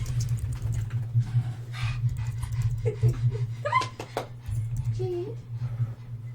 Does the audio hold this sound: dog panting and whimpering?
yes